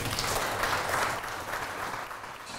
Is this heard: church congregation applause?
yes